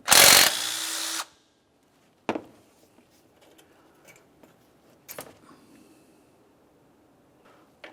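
A power tool bursts loudly for about a second while removing AC compressor mounting bolts on a 1994-2002 Dodge Ram 2500, then quiet clinks and clicks of handling parts follow.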